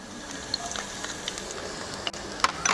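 Garlic and green chilies fry in hot oil with a soft, steady crackle and a few sharper pops near the end, faint and close.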